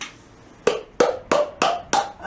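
Five separate hand claps spaced evenly about a third of a second apart, each sharp and close, following a brief stretch of near quiet.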